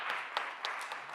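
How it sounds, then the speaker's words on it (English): An audience at a high school Law Day event applauds steadily at moderate distance, with a few sharper individual claps standing out from the wash of clapping. "a round of applause"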